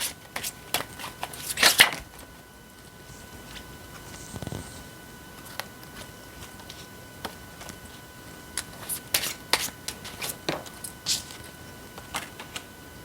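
Tarot cards handled during a reading, with sporadic soft flicks, taps and shuffling rustles spread across a quiet background, no talking.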